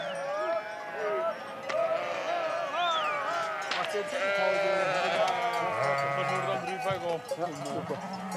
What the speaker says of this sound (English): the sheep begin the last leg of their homeward journey